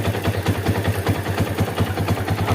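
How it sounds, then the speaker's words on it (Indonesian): A Yamaha Vixion motorcycle engine with a bored-up cylinder idles steadily after a starter repair, a close, even low thrum of regular firing pulses with no talk over it. "jadi langsung tadi sekali start langsung hidup mesinnya"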